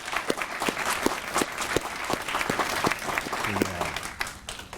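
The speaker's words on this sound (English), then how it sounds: "Let's give them a round of applause." Applause for graduates at the Indian Ridge School graduation ceremony, a steady crowd of clapping hands close by with individual sharp claps standing out.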